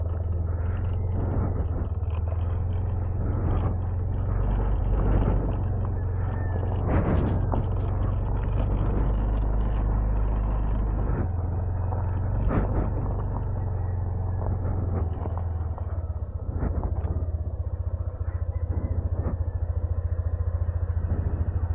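A motorcycle climbing a steep road near Tanay on a motocamping trip: steady, close engine rumble with strong low drone and wind buffeting, intermittent surges of revving, no clear talk.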